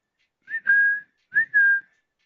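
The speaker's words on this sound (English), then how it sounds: "I just realized I'm whistling down a mic" A person whistles close into a microphone during a live trading stream: two short whistled phrases, each rising then holding a steady tone, with a brief pause between them and no other sound.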